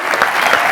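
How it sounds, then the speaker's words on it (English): Applause from a conference audience at an EO Nerve 2014 event, a dense steady wash of clapping filling the whole short moment, loud and close with no gaps. "more round of applause for Eric and his team"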